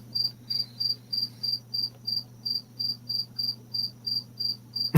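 Crickets chirp inside a garage in a steady, evenly spaced pulse of about fourteen bright trills, fairly close and alone over a low constant hum.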